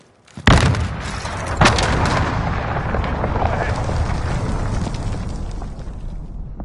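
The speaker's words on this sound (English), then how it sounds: "Enemy cruise missile incoming." Cruise missile strike in the video game Call of Duty Warzone: a sudden heavy blast, followed by a second boom a second later, then a long rumbling roar of debris and fire that slowly fades.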